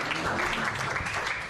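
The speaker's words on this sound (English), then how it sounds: "Round of applause." A short burst of audience applause in a pub after a talk, dense, continuous clapping from a close room crowd with no voices on top.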